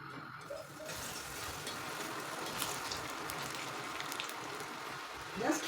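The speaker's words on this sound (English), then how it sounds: "I will deep fry this in a high flame" Arrowroot (nduma) slices deep-fry in hot oil over a high flame, giving a steady, fairly soft, hissing sizzle that holds evenly throughout.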